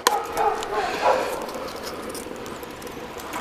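Dogs barking at an off-grid cabin, a few yips and barks at moderate distance in the first second or so, then a steady outdoor background hum.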